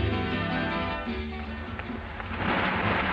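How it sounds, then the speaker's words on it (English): Rain and rumbling thunder from a 1972 Perth radio advertisement, a steady wash of rainfall with low rolling rumble throughout, swelling to a denser downpour toward the end, with no voices. "Perth in the rain."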